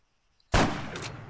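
.50 caliber gunfire aimed at a vehicle's wheel well in the ArmA 3 video game: silence, then a sudden loud burst of shots that rings on with a short follow-up crack, heard alone.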